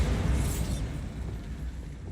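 A Bombarda blasting spell explodes in a wizard adventure video game, a broad low rumbling boom that swells quickly and then rolls on as a steady roar, alone with no voices.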